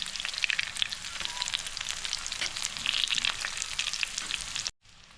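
Aloo vadi slices frying in a little oil with curry leaves and sesame seeds give a steady, close crackling sizzle with dense spitting pops, cutting off abruptly near the end.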